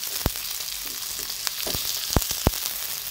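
Garlic sautéing in a pan for a Filipino ginataang kalabasa dish, a bright continuous sizzle with several sharp spatula clicks and scrapes as it is stirred.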